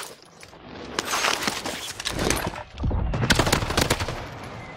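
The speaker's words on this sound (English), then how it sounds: "He was shot by the sniper, too." Sniper rifle fire in the Warzone video game comes as loud, dense bursts of gunfire with sharp repeated cracks, several volleys in close succession across the clip.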